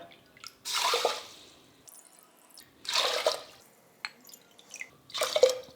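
Water is poured into a pot of moong dal for cooking, arriving in three separate splashing, gurgling bursts with quiet pauses between, close and moderately loud with no talking.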